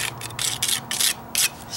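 A wide 3-inch putty knife scrapes and smears a stucco patch of Dryvit, giving several bursts of gritty rubbing separated by short pauses, close and fairly loud.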